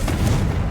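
A Confringo fire blast spell goes off in Hogwarts Legacy, a single short, loud, muffled boom with a deep low-end thump.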